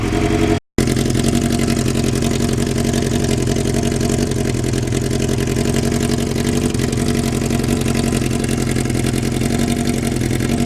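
A Kawasaki Ninja motorcycle engine runs steadily and loudly up close, a constant mid-range drone with a brief dropout near the start and no talk.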